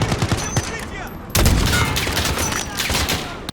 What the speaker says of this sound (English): how satisfying it is to use the sniper rifle Hadir lent us. Every shot booms like thunder